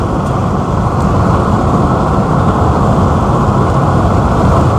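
Steady, loud engine drone as a car pulls through third gear up to 50, a dense continuous roar of engine and road noise with no breaks.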